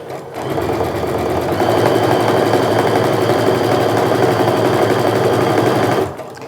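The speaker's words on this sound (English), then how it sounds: "I'm going to go ahead and sew across these bottom sides" A sewing machine stitches steadily across the bottom sides of a sling bag at a 1/4 inch stitch, a loud continuous mechanical whir running unbroken for about six seconds before stopping.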